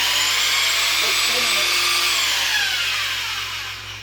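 A Bauer 3x21 variable speed belt sander runs steadily with a loud high whine and motor hum, then begins spinning down and fading toward the end.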